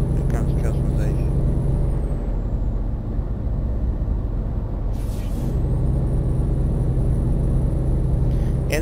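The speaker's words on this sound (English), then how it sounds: "the truck sounds pretty legit for the Volvo engine" A Volvo 660 truck engine in American Truck Simulator rumbles steadily and loudly throughout, with a brief hiss of air release midway.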